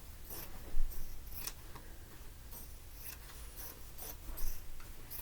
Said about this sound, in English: I've just got some good scissors here. And so I'm just going to trim it.